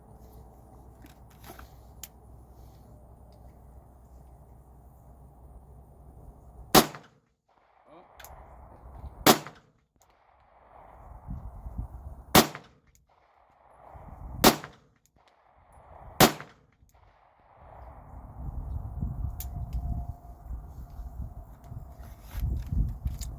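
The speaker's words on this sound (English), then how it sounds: "Let's hope I can shoot this clean" Five sharp gunshots ring out a few seconds apart from offhand shooting on a range, each crack loud and close over a low rumble of background noise.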